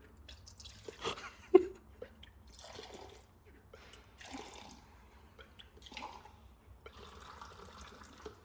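Water dispenser being pumped by hand and water pouring in short intermittent gurgling bursts with drips, fairly quiet and close.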